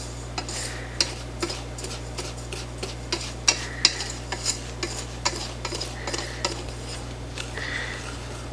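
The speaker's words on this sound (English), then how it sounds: "I'm just mixing the dry ingredients" Dry ingredients and cornstarch are stirred in a bowl, with a steady run of sharp utensil clicks and scrapes against the bowl, close and fairly loud, and no talking.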